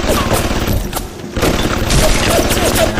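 Rocket turret shooting in Bioshock, with repeated heavy booms and thuds arriving in an irregular volley, loud and close, mixed with mechanical clatter.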